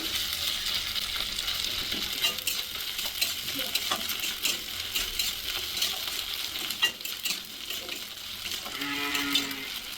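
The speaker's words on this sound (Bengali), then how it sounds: "আদাটাকেও ভালো করে ভেজে নিই" Continuous close-up sizzle of ginger paste frying in oil, with intermittent stirring and light clinks of a utensil against the pan.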